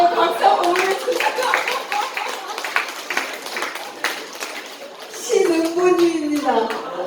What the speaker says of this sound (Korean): 박수 한번 보내주세요.